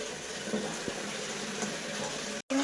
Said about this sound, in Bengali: এদিকে দেখো আমি শাকটা ধুচ্ছিলাম